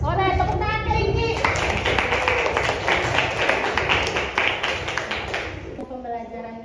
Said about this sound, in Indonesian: nah tepuk tangan ke Iki.